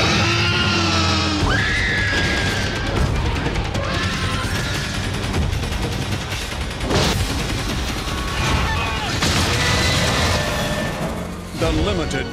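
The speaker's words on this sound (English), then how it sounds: "Then later there's running and screaming." Screams burst out amid a chaotic, loud dinosaur movie trailer montage, with crashes, booms and dense action effects layered over a dramatic score and intermittent voices.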